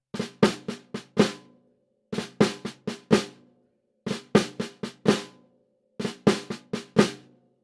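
Drum rudiment played on a snare, groups of five strokes with flams on the first and last, repeated four times in a steady, crisp, close pattern with short gaps between groups.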